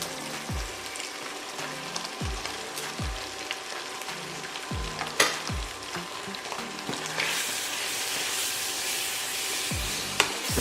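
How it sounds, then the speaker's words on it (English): Chopped vegetables frying in hot oil for a plantain and egg dish, a steady sizzle broken by repeated scraping stirs of a spoon against the pan, with a few sharper clinks; no one speaks. "put all of these chopped vegetables inside and stir"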